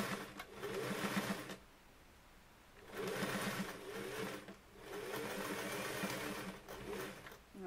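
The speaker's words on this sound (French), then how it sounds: "vous allez faire une couture en vous assurant que vos plis sont bien formés" A sewing machine stitches the seam of a fabric face mask in three steady close runs of rapid whirring, separated by short pauses.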